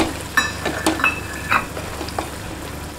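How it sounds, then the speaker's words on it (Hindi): Garlic, red chili and garam masala sizzle and fry in a pan while a utensil stirs, giving a steady hiss with scraping clicks and light taps. "अभी इसमें गया लहसुन, लाल मिर्ची और ये गरम मसाला, ठीक है। इसको हल्का सा भूनेंगे"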